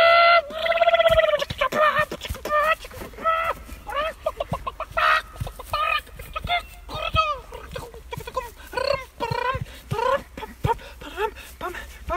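A person imitates a hen clucking while laying an egg, making a long run of loud, close, nasal clucks and squawks in an uneven rhythm, with a high drawn-out cackle at the start.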